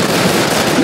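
Gunfire in the video game Call of Juarez: The Cartel, a loud, dense burst of shots that fills the whole brief moment with no pause.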